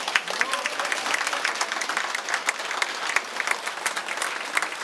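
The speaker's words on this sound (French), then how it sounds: "Je voudrais qu'on applaudisse fortement les organisateurs." Dense, steady applause from a large crowd honouring the organisers at a festive event, sustained and fairly distant with sharp clap transients throughout and no voices over it.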